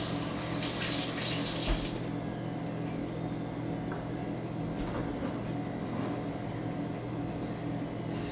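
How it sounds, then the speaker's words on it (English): Tap water runs steadily into a kitchen sink while hands are washed during home cooking, a continuous close rushing hiss with a brief louder splash early on. "Now let's wash our hands"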